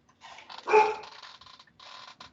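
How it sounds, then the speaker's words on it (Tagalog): Household dog barking indoors, a short burst of a few yappy barks and whimpering yips, close and fairly loud, with no talk over it. "Ang ingay ng aso namin."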